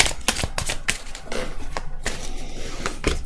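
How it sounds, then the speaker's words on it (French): Tarot cards are set down one at a time on a table in a quick series of crisp close taps and slaps, with soft sliding between them. "je vais mettre d'abord 6 cartes en haut, 6 cartes en bas."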